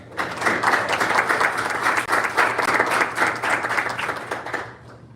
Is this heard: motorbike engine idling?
no